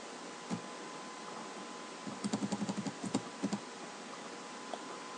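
Code being typed on a computer keyboard gives a quick burst of close key clicks. A few scattered taps come first, then a tight run of strokes, then a few more, over a faint steady hum.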